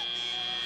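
End-of-match buzzer at a 2019 FIRST robotics district qualification match, a loud steady electronic drone held at one pitch for the whole short moment, with no break.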